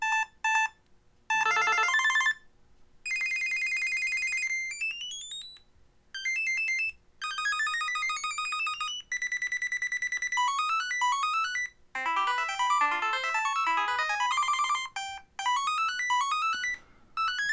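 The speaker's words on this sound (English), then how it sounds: "Ringtone, you can change the ringtone." Samsung Galaxy Smart Tag ringtones played through the phone's settings, a string of bright electronic melodies and chimes, each sample starting and stopping abruptly with short silent gaps between, clear and close.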